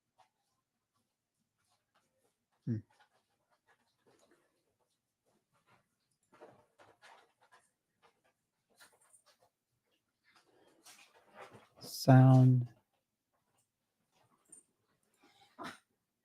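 A dog gives scattered soft snuffles and breaths in a quiet room, then lets out one loud, drawn-out whimper near the end, followed by a final short sound.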